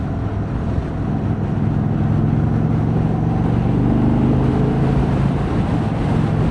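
A 2026 Indian Chief Vintage motorcycle engine rumbles steadily and low while riding, continuous and close, blended with heavy wind buffeting across the whole stretch.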